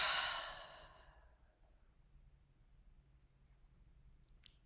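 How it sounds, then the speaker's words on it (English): A single deep breath pushed out through the mouth, a close, breathy exhale that starts strong and fades over about a second, followed by quiet room tone and a faint click near the end. "Take a deep breath in. Exhale out the mouth."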